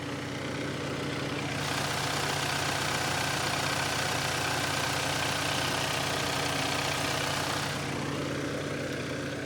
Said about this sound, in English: I turned the vehicle on so you can hear the engine.